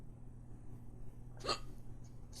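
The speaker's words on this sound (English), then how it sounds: "I didn't think like just 1 or 2 grapes would give me hiccups" A single sharp hiccup bursts out at close range in a quiet room, one brief spasm against a steady low hum, with a faint second catch just after.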